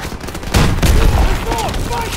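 Gunfire from a weapon in Call of Duty WW2, a dense burst of shots from about half a second on, loud and continuous, with a voice talking over it.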